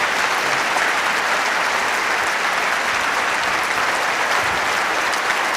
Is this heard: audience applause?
yes